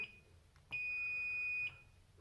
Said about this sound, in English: You hear that beep, you know you got continuity.